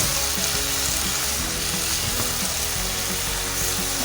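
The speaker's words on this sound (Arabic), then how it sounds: "هحط له بعد كده شويه توم كده صغيرين" Small pieces of garlic fry in a pan for Syrian kibbeh, giving a steady, loud sizzle with faint stirring clicks throughout and no talking.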